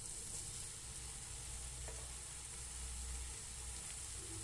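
Tomatoes with turmeric frying in a pan, a steady close sizzle with a low background rumble throughout, no voices.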